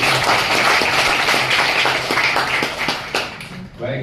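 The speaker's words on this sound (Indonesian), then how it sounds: "Tepuk tangan dulu dong." An audience claps together at a church gathering, a dense burst of many hands that holds steady, then thins and trails off near the end with some background murmur.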